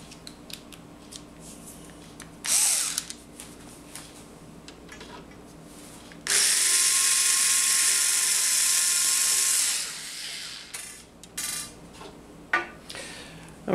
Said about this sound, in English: tool to open those screws is a Torx bit, Torx 10, and that will fit in just right fine